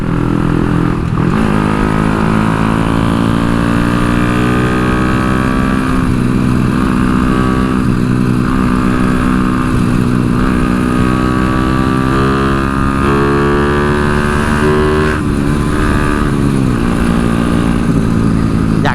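A motorcycle engine being run in roars loudly and steadily, up close and continuous throughout, with small rises and dips in revs.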